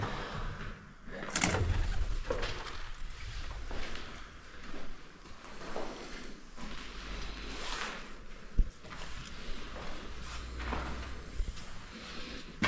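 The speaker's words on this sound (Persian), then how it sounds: "کبوتره." A pigeon coos faintly inside an old mansion, barely standing out against a steady rumble, rustling and scattered clicks in the space.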